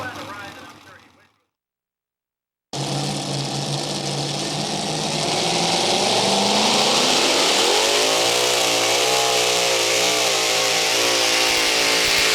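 A pulling-competition tractor with two motors revs hard at full power, its loud sustained roar climbing in pitch and holding steady, close by after a brief silence, with speech-like voices faintly under it at the start.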